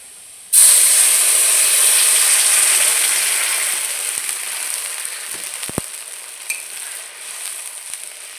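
Water poured into a hot pan of fried taro (kochu) pieces seasoned with turmeric and salt bursts into a loud, sudden hiss of steam and sizzle that slowly fades to a steady simmering crackle, with no talking.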